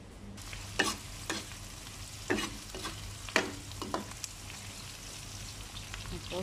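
Pieces of chicken frying in hot cooking oil while being stirred, giving a steady close sizzle broken by several sharp scraping clacks of the stirring utensil, with no talk.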